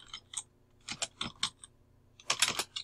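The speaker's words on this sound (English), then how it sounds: "Let me get my typing correct here." Someone types on a computer keyboard while working in AutoCAD, with close, crisp key clicks in uneven short bursts and a quick flurry at the end, and no talk.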